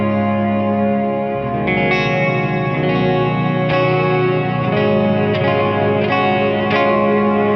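An electric guitar plays through a TC Electronic Hall of Fame reverb pedal set to gate reverb. Sustained, shimmering chords are restruck every second or so, each carrying a dense, effected tail. It is loud and close, with no talking.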